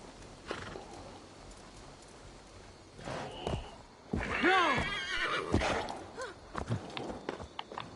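Horse in Assassin's Creed Valhalla whinnies loudly in a long, quavering neigh, with a couple of shorter snorts and hoof clatter before and after, set against game ambience.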